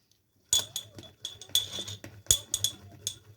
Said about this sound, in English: Take the glass.